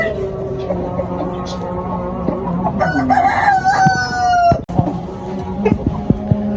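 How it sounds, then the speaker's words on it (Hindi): A Sindhi rooster crows in a rooftop poultry pen in Faisalabad, a single rising call near the middle, with hens clucking around it and someone talking throughout. "सिंधी मुर्गा है और चीनी मुर्गी है"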